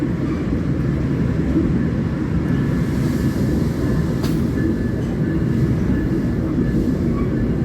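A train runs through Gondangdia station beside the KA Bima express with a loud, continuous rumble and rolling rattle that holds steady from start to finish, no voices over it.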